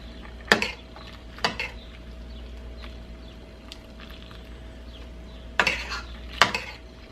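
Linguine pasta being stirred into a creamy mushroom sauce in a pan: a few sharp metallic clinks and scrapes of a utensil against the pan in two bursts, quiet between, over a low steady hum.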